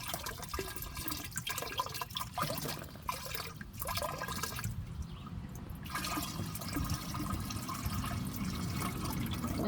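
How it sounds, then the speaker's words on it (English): Rainwater bubbling and gurgling out of a repurposed Dutch bucket holding a transplanted clone, a steady close wash of running water and bubbles with no talking. "Too much rainwater gets in there, it'll bubble out."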